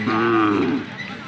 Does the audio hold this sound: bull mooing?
yes